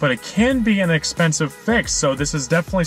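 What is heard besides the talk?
None of the usual background noises is heard.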